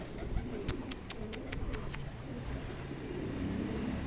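Soft cooing of a pigeon on a roof comes in a few short bursts amid outdoor background noise, moderately close, with faint tapping in between.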